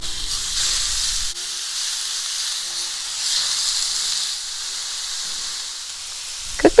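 Sausage patties laid into a hot, lightly greased skillet over medium-high heat hiss in a loud, steady broad sizzle that holds evenly for several seconds, ending with a brief clatter.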